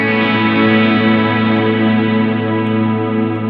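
A single overdriven chord on a coil-split 1972 Telecaster rings out loud and sustained, holding steady with a thick, gritty buzz before slowly fading slightly.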